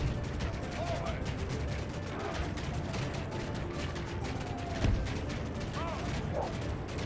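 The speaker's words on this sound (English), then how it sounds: "they're firing wooden bolts at the bloody castle" Siege weapons loosing wooden bolts at a castle in a video game battle, a dense mechanical clatter of ratcheting and impacts under a constant din, with one sharper crash near the end.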